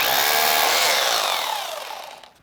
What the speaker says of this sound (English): Now let's put it in hammer mode.